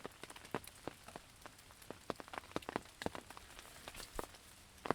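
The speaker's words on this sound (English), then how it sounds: "Rain like this never happens in late May." Rain in late May on the West Coast patters onto surfaces: a faint, irregular run of sharp drops ticking close by over a soft steady hiss, with no talking.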